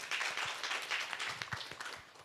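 An audience at a college debate stage event claps in a brief, fairly faint burst of scattered hand claps that thins out toward the end.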